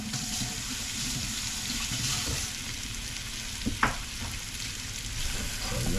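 Shrimp with onions and garlic bubble down in oil and butter, a dense continuous frying hiss with one brief clink near the middle, close and steady without any talking.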